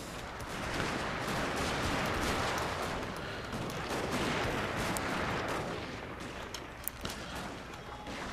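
Massed infantry gunfire from a battle in the strategy game Total War: Shogun 2, Fall of the Samurai: a dense, continuous crackle of musket and rifle volleys rolling on for the whole stretch, sustained and fairly distant.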